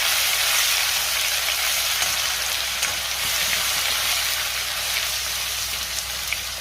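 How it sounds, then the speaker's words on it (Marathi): Ginger garlic paste sautés in hot oil with cumin and mustard seeds, bay leaf and curry leaves for a Marathi-style brinjal and potato gravy, giving a loud, steady, dense sizzle with no speech. "आलं लसणाची पेस्ट मी थोडीशी परतून घेणार आहे।"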